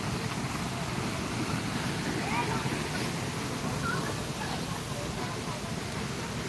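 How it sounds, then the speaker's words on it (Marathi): Water flows steadily outside a temple, a constant broadband rush mixed with wind noise on the microphone, with no clear voices. "इथून पाणी वाहत आहे"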